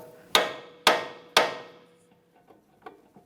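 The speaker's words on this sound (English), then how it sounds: "you could use a hammer and just give the lower control arm a couple taps" Three sharp metallic hammer taps on the lower control arm of a 2003-2007 Honda Accord, evenly spaced and ringing briefly, followed by a few faint light knocks from the same job.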